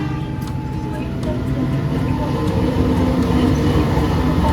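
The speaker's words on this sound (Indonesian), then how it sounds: "kalau yang ini masuk dari arah barat kereta api Joglo Semarkerto" A Joglosemarkerto passenger train rumbles steadily nearby, low and continuous, growing slightly louder, with a faint high whine above the rumble.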